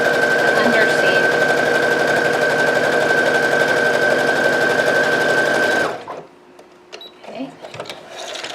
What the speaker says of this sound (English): Reverse stitch it, and sew 5/8 down